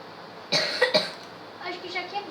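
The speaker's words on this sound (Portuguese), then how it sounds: "tosse aí da minha mãe, né?" A woman coughs in a short cluster of two or three harsh coughs nearby, followed by quieter background voices talking.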